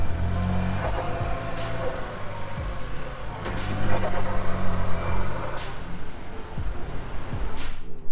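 An MK8 Ford Focus ST being moved slightly into position for snow foam at a valeting bay, its engine running low and steady with mild revs rising and falling, near and continuous.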